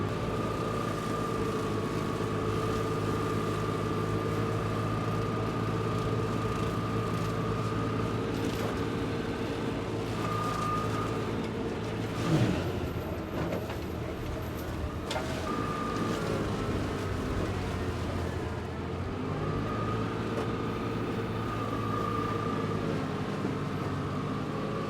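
A tractor-driven mulcher with a slipping clutch runs steadily, a continuous low engine drone with a whining tone that holds without break, briefly roughened by a single rattle midway.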